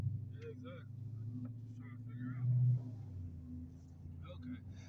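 A modified 2012 Dodge Charger with the 5.7 engine rumbles low and steady from inside the cabin, swelling briefly as it revs, while people talk over it.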